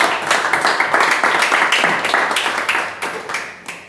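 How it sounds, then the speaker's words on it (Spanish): A small group in a Bible class claps steadily for a few seconds, dense irregular hand claps close by, tapering off slightly at the end. "Aplauso para el hermano"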